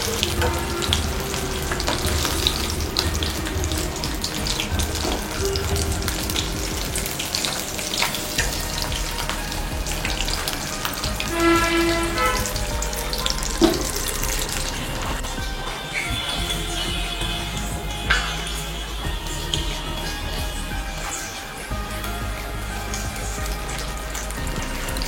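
Batter-coated fish and egg bajji deep-frying in hot oil, a dense, steady bubbling sizzle running nonstop at close range, with occasional clinks and a few soft background sounds.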